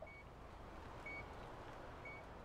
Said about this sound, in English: I hear it beeping.